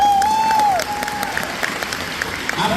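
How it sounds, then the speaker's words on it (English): Applause from a crowd at a youth nonviolence summit in Stuttgart rolls steadily through, dense clapping with a brief tonal whistle-like line near the start, continuous and moderately loud. "Give a round of applause"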